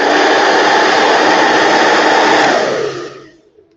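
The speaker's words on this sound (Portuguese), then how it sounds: "Peguei esses dois interruptores e virei eles no máximo" A handheld hair dryer roars at its maximum speed and heat settings, a steady loud broadband blowing rush close to the mic that winds down and fades out near the end.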